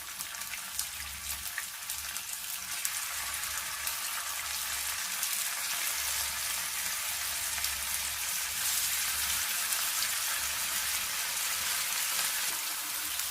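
Fish sizzles steadily in hot sesame oil in a pan over a medium flame, a dense, even crackling hiss with scattered sharp pops, heard close and alone for the whole stretch.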